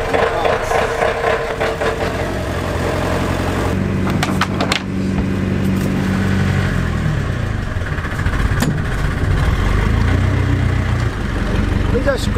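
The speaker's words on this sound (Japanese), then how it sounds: "エンジン始動。" An outboard engine on a small fishing boat, choked for a cold winter start, catches and runs with a steady mid-pitched drone that rises as the throttle is raised, loud and close, with people talking over it.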